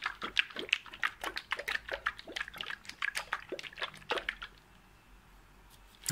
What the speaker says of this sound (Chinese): 像这就是 8K 的料啊，各位可以听一下它摇晃的声音哦